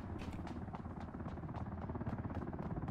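A helicopter in the video game Ring of Elysium gives a loud, steady rotor thrum with a fast, pulsing beat. It runs continuously through the whole moment, with nothing else in front of it.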